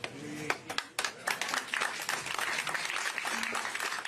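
A crowd at a New Hampshire campaign event applauds, loud dense clapping with a few sharper claps standing out, and a brief voice surfacing once or twice beneath it.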